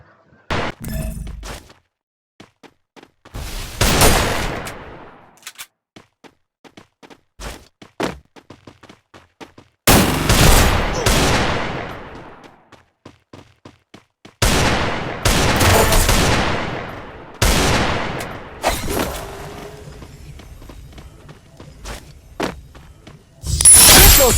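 Gunfire in a shooter video game comes in sharp, loud bursts and single shots scattered across the stretch, with thuds and quiet gaps between volleys and no talking.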